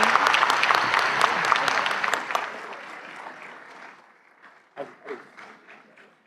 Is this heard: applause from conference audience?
yes